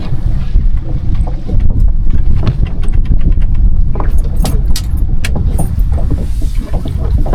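A boat motor running as a steady low rumble, loud and close, with wind buffeting and clattering rattles over it, no voices.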